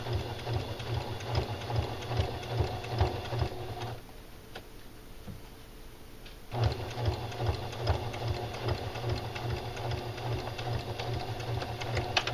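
A sewing machine stitches the waistband casing of pajama pants in a fast steady close-up whir with rhythmic ticking. It pauses for about two seconds in the middle, then runs on again at the same pace.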